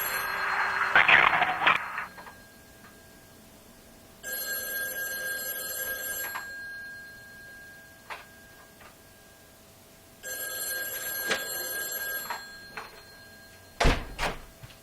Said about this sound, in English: Oh, that's some ringing on the phone.